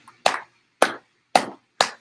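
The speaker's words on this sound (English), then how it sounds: "Let's give ourselves a big round of applause." Four sharp, evenly spaced claps from a workout class giving themselves a round of applause, each burst loud and close and separated by clean silence.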